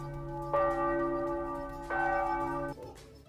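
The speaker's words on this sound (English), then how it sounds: "the sound of the bell induced by the stroke of the clapper" A bell struck by its clapper rings out twice, each strike leaving a clear sustained tone with a bright ringing overtone, the second strike cut off abruptly by a short rustle, moderately loud in quiet surroundings.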